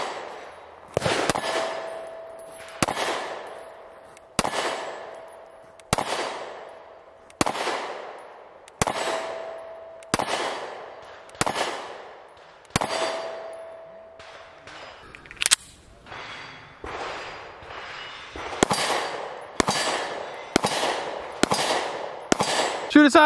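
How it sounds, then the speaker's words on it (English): Canik Mete MC9 pistol fired at a shooting range, about fifteen sharp single shots spaced roughly a second or so apart, each with a quick decaying echo, loud and close, no talk. "let's shoot it. Let's see how it do."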